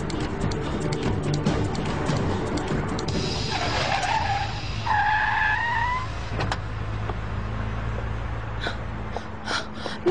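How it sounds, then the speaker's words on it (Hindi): A car skids with tyres squealing during a chase, a sustained screech rising over engine and road noise for several seconds, loud and close, with no talking. "जल्दी इस गाड़ी का पीछा करो।"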